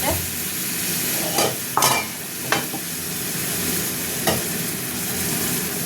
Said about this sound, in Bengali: এবার দিয়ে দেবো আদা রসুন বাটা আর হলুদ লঙ্কা গুঁড়ো